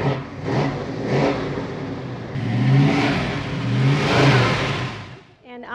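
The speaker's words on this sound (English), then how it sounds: "So we're going to let you get in and give us that rev." A car engine revs at the Saratoga Cool Car Club car show, swelling up twice in strong, close bursts over a steady running rumble, with people talking nearby.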